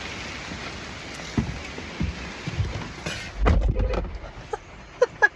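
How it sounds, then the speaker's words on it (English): Rain falls outdoors in the Maine woods as a steady, soft patter, with scattered louder drops and thumps landing close by. "Look, it's raining."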